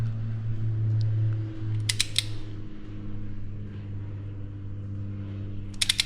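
A wrench tightens a spark plug on a 2023 Kia Forte GT. A few brief, sharp ratcheting clicks come at intervals over a steady low mechanical hum.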